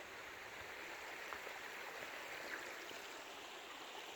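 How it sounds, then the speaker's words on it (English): A stream flows beside a campsite on the West Highland Way, a steady, faint broadband rush of water running unbroken from start to finish with no voices. "I've got a stream so I can top up with water."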